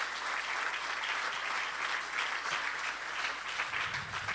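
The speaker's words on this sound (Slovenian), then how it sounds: "Še en aplavz." An indoor audience applauds steadily at a Slovenian independence anniversary ceremony, a dense, even clapping that holds at full strength throughout without voices on top.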